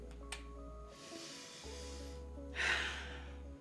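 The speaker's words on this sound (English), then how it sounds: "it definitely got a little spritz quarter ball spray" Two short hissing sprays from a small perfume atomizer (Mancera Tonka Cola), close by, the second stronger, over a low steady hum.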